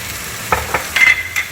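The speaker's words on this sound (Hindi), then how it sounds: "give it a quick stir" Minced keema frying in a pan with a little added water is stirred, giving a soft steady sizzle with several short scraping stir strokes rising above it, close and fairly loud.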